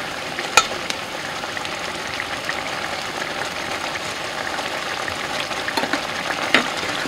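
Turkey gravy bubbling and thickening in a pan, with a steady close simmering hiss and a few faint clinks of a utensil against the pan.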